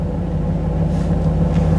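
A third-generation Chevrolet Camaro with a 305 TPI V8 idles in neutral, giving a steady, loud, close, low rumble that holds even throughout.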